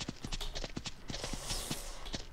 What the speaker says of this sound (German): von der Seite sieht der Galopp sehr schön aus.